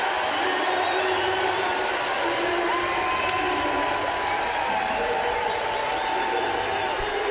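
Crowd cheering and applauding at the Ascension semi-final esports event, a dense continuous roar of whoops and shouts under a commentator's voice.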